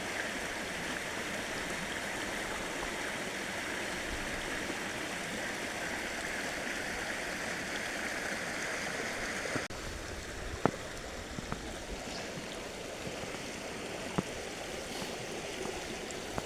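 A creek flows steadily nearby during gold panning outdoors in the morning, a constant soft rushing with a few faint clicks and taps later on.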